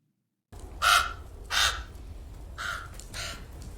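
A crow cawing four times, two loud harsh calls close together followed by two slightly softer ones, alone against a quiet outdoor background.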